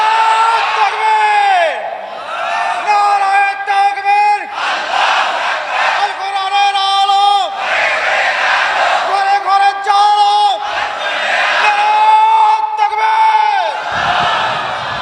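At a religious waz gathering, a large crowd shouts the takbir in unison. Loud, drawn-out chants of many voices repeat about every two to three seconds, filling the space.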